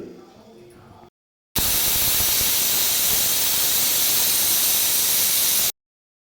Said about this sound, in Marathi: मी ह्या कुकरला तीन शिट्ट्या घेते